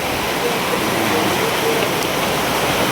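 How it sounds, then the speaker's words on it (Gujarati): Heavy rain pours near Talaja in a continuous, even roar of water on surfaces, loud and close throughout, with no distinct drops standing out. "વરસાદની બહાટી બોલે"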